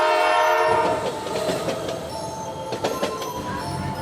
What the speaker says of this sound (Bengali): ট্রেন ছেড়ে দেয়।